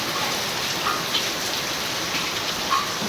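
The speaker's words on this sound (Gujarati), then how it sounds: "અને વરસાદ ચાલુ થઈ ગયો જોરદાર" Heavy rain pouring down in a village, a dense steady hiss of drops falling on surfaces, continuous and fairly close with no breaks.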